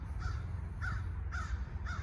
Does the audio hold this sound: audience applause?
no